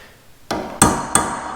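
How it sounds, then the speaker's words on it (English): Three sharp, loud metallic strikes of a hammer on a small chisel, each ringing briefly, as it knocks the dust cap off an older Honda rear wheel bearing hub; the blows come close together with no talk. "you're going to go around and just keep smacking it with a hammer and turning the hub and smack it some more"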